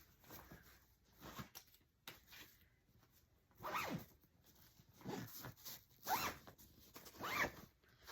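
Someone closes a stuffed packing cube with its zipper: several short, scratchy zip strokes come in bursts between pauses, quiet and close.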